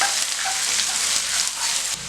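Chopped large onion sizzling and frying in hot oil for an egg gravy, a continuous close crackling hiss with light stirring, no voices.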